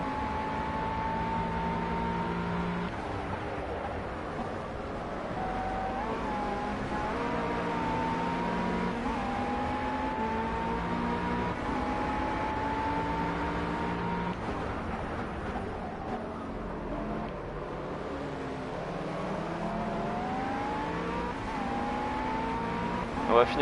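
GT3 race cars racing in career mode in the video game Project CARS: a continuous engine drone that rises and falls through gear shifts and revs, with occasional other cars close by and someone talking over it.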